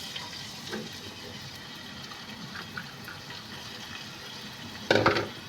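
Minced garlic, ginger and three green chilies hit hot mustard oil in a pan, giving a steady close sizzle with a sharper burst of spitting near the end.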